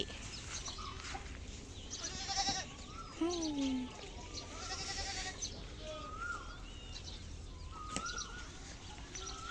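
Goats on a Thai cattle farm raising Brahman and crossbred beef cows, bleating several times at close to moderate distance amid farmyard noise, with someone talking and birds chirping in the background.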